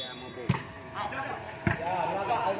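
Two sharp volleyball spikes, one after another, ring out in a crowded arena during a match in Aceh, each a hard slap with a bright smack. A commentator talks over the crowd noise.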